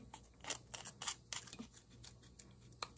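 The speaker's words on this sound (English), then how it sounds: "So I'm just going to use scissors, and I'm going to use half the packet." Scissors snip through a plastic packet of grass-fed meat in a kitchen, a string of sharp close clicks and crisp cuts in uneven bursts, fairly quiet and with no talking.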